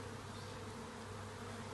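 Honey bees at a beehive in an apiary hum in a steady, dense buzz that stays close and fairly quiet throughout, with no voices.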